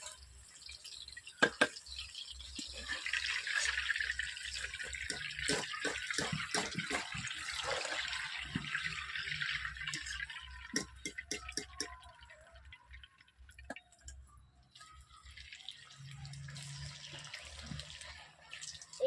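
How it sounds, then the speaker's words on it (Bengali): Pitha made from mung dal and atop rice frying in oil in a wok gives a low, irregular crackle of scattered pops and bubbling, busier in the middle and thinning out toward the end. "এইভাবে এক এক করে পিঠেগুলোকে আমি ভেজে নেব"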